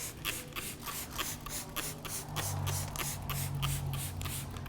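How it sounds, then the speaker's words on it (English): Quick repeated spray bursts from a trigger bottle spraying clay lubricant onto car paint, close and moderately loud, with soft rubbing noises underneath. "This is our clay luber. Spray it on the surface."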